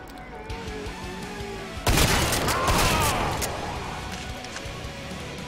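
A shotgun fires once in the video game Killing Floor 2, a sudden loud blast with a rolling crash and debris tail that fades over several seconds against steady game ambience.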